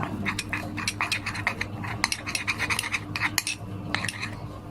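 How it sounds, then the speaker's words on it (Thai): A spoon scrapes and clinks against a bowl as a homemade face mask mixture is stirred, quick uneven taps repeating close up and moderately loud with no talking. "เราก็คนให้เข้ากันเลยค่ะ"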